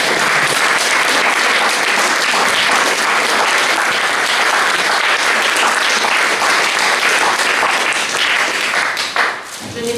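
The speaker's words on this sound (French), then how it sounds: "Je vous demande d'applaudir ces murs" Loud, sustained audience applause at a staged reading performance, dense clapping filling the room steadily before tapering off near the end.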